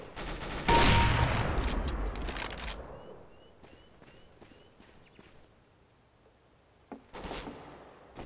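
A loud burst of rifle fire in Counter-Strike: Global Offensive opens the sequence, followed by fading rattles and a quieter second burst near the end, with no talk.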